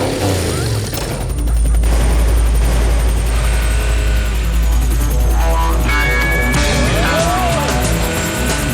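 A cartoon helicopter roars and thuds, loud and close, with heavy low rotor rumble mixed with crashes and sound effects throughout.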